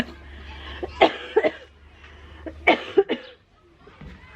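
Two bursts of coughing, each a quick cluster of harsh coughs, close and loud against a quiet room.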